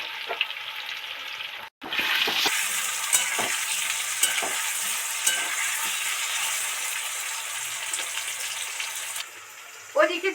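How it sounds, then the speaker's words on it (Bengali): Potato and tomato with green chilli fry in hot oil in a pan, a loud continuous sizzle broken by repeated scraping stirs of a spatula, close up. "আলু টমেটো ভাজা হতে থাকছে"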